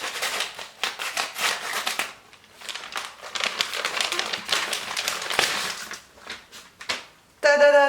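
Crisp paper and plastic wrapping crinkles and rustles up close as a parcel of magazines is torn open, with bursts of crumpling and tearing that are steady and busy, pausing briefly before a final loud rustle.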